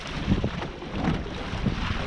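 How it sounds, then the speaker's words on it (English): Wind gusts buffet the microphone aboard a Mirror dinghy under sail, with a rushing, uneven roar and faint water noise in short swelling bursts. "Wind's picked up a little bit."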